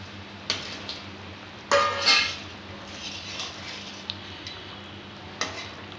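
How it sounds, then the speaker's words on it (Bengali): Fried fish is added to a boiling curry gravy, with soft stirring and scraping against the pan and a few sharp clinks of a utensil. A faint sizzle sits under the sounds, and no one speaks. "গ্রেভিটা ভালোভাবে ফুটে গেছে। এবারে ভেজে রাখা মাছগুলো দিয়ে দিব।"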